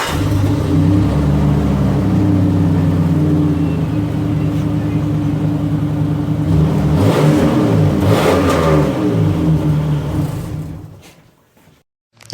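A 1996-2000 Nissan Pathfinder SUV engine with a new catback exhaust idles with a deep, throaty exhaust rumble, then revs up loudly a couple of times before cutting out near the end.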